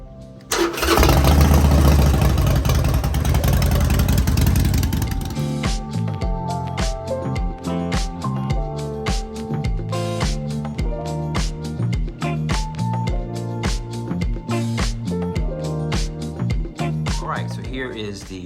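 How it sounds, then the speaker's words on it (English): A motorcycle engine cranks and fires with a loud burst, then settles into a steady, rhythmic idle and running note that continues close by. "So I'm gonna quickly take the motorcycle out,"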